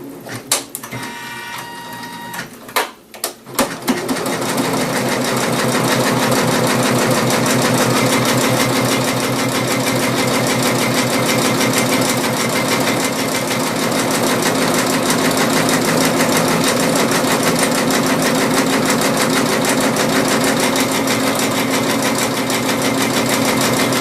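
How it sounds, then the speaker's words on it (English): A sewing machine runs steadily stitching a border line, a loud, fast mechanical whir and rapid needle clatter held continuously after a few brief starting bumps, close up and without speech. "we're going to go ahead and stitch the last border. It's going to stitch another line again"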